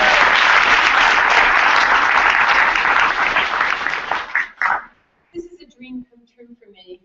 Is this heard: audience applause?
yes